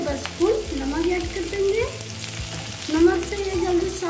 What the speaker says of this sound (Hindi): पटल को लगातार चलाते हुए फ्राई कर रहे हैं।